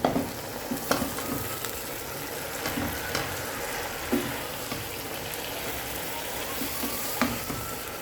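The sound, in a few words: leafy greens added and stir-fried in a pan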